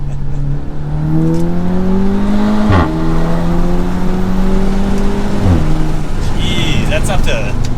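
An Audi S3 four-cylinder engine pulls hard up to 70, its note climbing through two gearshifts with brief dips in between, loud and steady from inside the car, with road and tire noise underneath.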